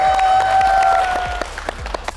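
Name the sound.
applause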